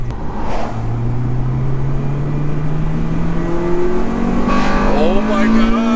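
A 300,000-mile Acura RSX Type-S engine with an aftermarket intake revs hard, rising steadily in pitch with a loud intake roar as VTEC engages, while voices exclaim in the background.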